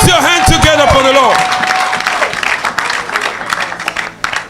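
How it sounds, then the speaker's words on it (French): Church congregation at a lively French-speaking worship service applauding, with a dense wash of hand clapping from a crowd as a loud voice calls out over the start. "Put your hands together for the Lord."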